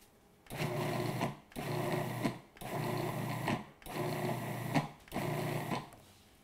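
A food processor pulses a cheesecake crust mixture bound with melted butter for a pumpkin cheesecake: five close, loud motor bursts of about a second each, separated by short pauses, with no talking.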